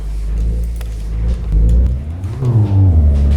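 A car engine in the My Garage driving game starts low and steady, then revs up in a rising, growling sweep about halfway through, loud and close throughout.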